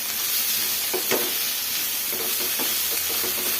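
Bread toast stuffing being mixed with coriander leaves in a pan: a steady bright sizzle-like hiss fills the background while a few soft scraping strokes come through close up.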